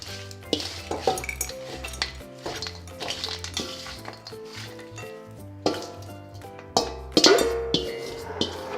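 Triple berry salad tossed in a bowl gives repeated clinks and scrapes of utensils against the dish, irregular and close, with a few sharper knocks near the end and no talk.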